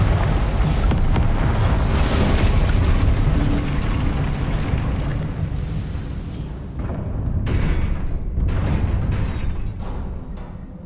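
Confringo blasting spell explosions in the Hogwarts Legacy video game, a dense run of loud booming blasts and rumbling bursts that fade into crackling debris and lighter pops toward the end, with no talk.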